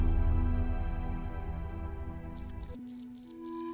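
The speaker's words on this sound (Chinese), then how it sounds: "就是那一只蟋蟀， 在你的窗外唱歌" A cricket chirping outside a window: a soft musical drone fades out, then bright, rhythmic chirp pulses come in a steady series, close and clear.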